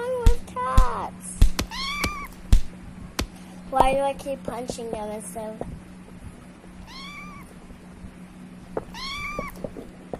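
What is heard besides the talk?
cats meowing in the video game Minecraft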